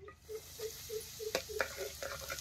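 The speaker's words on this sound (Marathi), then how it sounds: "चटणी बी तेलात चांगली भाजून घ्यायची" Chilli chutney with mustard seeds and turmeric roasts in hot oil in a kadhai over a wood-fired village stove for egg curry; a spatula scrapes in a slow, regular rhythm over a faint sizzle, with a few sharper clinks.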